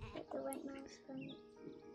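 Sheep bleat repeatedly in the video game Isle of Ewe, wavering cries close together over a busy game background.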